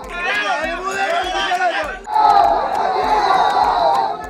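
Spectators crowded around a Pakida dice game shout and cheer in a loud, close mass of voices, with excited chatter giving way to a sustained roar from the crowd.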